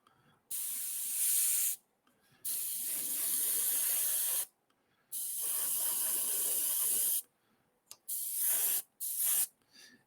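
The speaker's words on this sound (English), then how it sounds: "Hopefully this will be the last issue with the airbrush today." An airbrush spraying paint in several bursts of steady, bright hiss, each lasting one to two and a half seconds with short silent gaps between, close and even.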